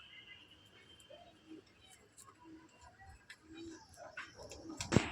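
Male golden pigeons coo softly in a home loft, repeated low throaty calls close by with faint voices talking in the background.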